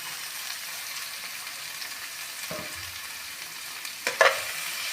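Boiled bitter gourd tipped into a pan of potatoes already frying, a steady low sizzle and stirring that briefly flares into a louder hiss and scrape near the end.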